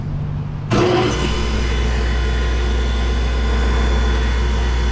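A Delta 43-792 sliding shaper motor kicks on abruptly after a moment of quiet, then settles into a loud, steady, even hum with a constant low drone close by.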